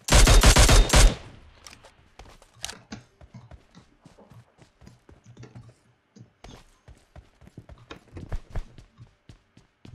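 Gunfire in PUBG Mobile Sniper Arcade mode opens with a loud, dense burst of shots, then gives way to scattered quieter clicks and footstep-like taps with a few sharper reports later.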